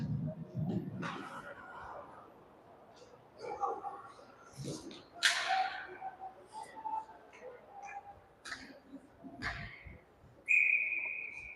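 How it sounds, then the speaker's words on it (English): A referee's whistle for icing at an ice hockey game sounds as one sharp, sustained shrill blast near the end, after quiet arena noise with scattered thumps and distant voices. "Whistle for icing."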